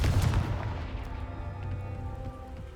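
The Confringo spell is cast in the video game Hogwarts Legacy, a single sharp explosive burst that booms up front and decays into a fading rumble.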